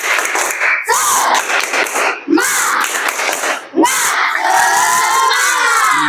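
A classroom group shouts the Indonesian tepuk semangat chant together during an ice-breaking moment in a Bahasa Indonesia lesson, loud voices in bursts with claps woven through the rhythmic pattern.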